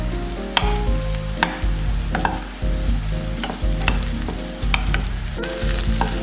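Chicken pieces sauté with capsicum and onion in a hot pan for a wheat pizza topping: a steady, close sizzle with repeated scraping and clacking of a spatula stirring, and no talk.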